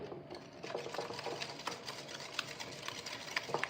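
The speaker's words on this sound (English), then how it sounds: "I'll stir in between each because I want all my ingredients really well blended" Stirring milk into whipping cream for vanilla custard, a steady scraping and swishing of a utensil in a bowl with light clinks, fairly quiet and continuous.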